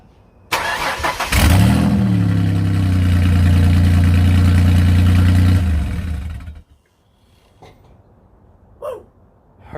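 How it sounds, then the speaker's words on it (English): A car engine cranks briefly, catches and settles into a loud, steady running drone for about six seconds, then shuts off abruptly, leaving near silence with a few faint distant sounds. "So last thing I need to do is make sure the car starts"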